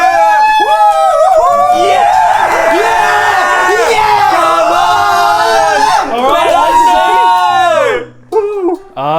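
A TED Talks audience cheers, whoops and yells loudly for several seconds, a dense crowd roar with shouted voices that dips briefly near the end.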